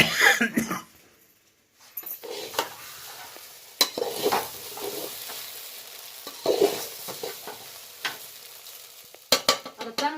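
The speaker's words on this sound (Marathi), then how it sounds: "चांगले भाजू दे पोहे पोह्याला चव लागते चांगली" Poha (flattened rice) roasting in a pan while being stirred, with scraping stirs and a soft sizzle, broken by a brief quiet gap and a few coughs nearby.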